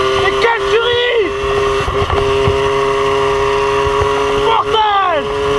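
MBK 51 Magnum moped engine with a tuned exhaust and open air box, revving loud and close with rising and falling whines, steady buzzing throughout and sharp throttle blips near the start and end; voices talk over it.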